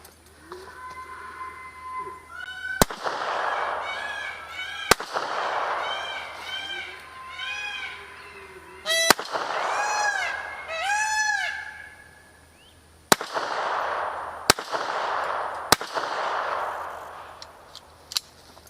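A cheap Lorcin .25 ACP pocket pistol fires at a shooting range. Six sharp, isolated shots come at irregular intervals, with voices talking in between.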